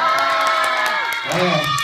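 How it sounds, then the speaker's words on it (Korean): A crowd at a film premiere screening cheers and shouts with scattered clapping, loud and close, with high excited voices rising in a brief swell. "박수 감사드립니다."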